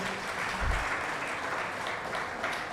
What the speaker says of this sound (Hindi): तालियां कंजूसी क्यों करते हैं आप लोग